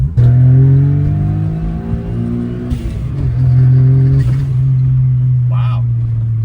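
A Suzuki Alto Works CR22S kei car fitted with a custom exhaust revs hard in first gear, its loud engine note climbing steadily over several seconds close by, with people talking over it.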